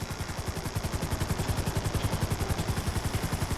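A helicopter hovers in place in GTA V, its rotor thumping in a steady, fast rhythm with a constant engine whine, loud and close throughout with no talk.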